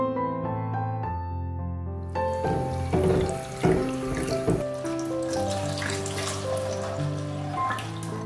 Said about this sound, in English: First, we need to wash it under running water.